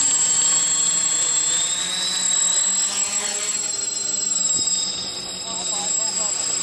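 Tri-copter multirotor drone spinning up and flying outdoors, a steady high-pitched motor whine with shifting tones as it climbs and moves away, fairly close at first.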